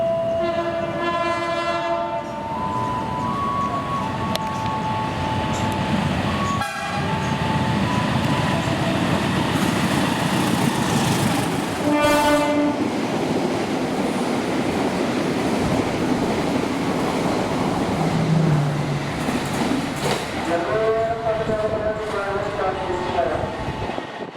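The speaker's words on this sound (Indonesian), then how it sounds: "sambil kita tunggu ini melintas kereta api Blambangan Express" The Blambangan Express passenger train rolls past with a steady, loud rumble, its horn blasting near the start, again midway and once more near the end.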